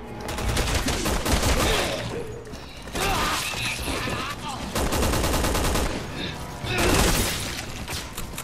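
Rapid, loud bursts of Resident Evil 6 gunfire crackle almost without pause, with brief gaps between volleys and faint talk beneath.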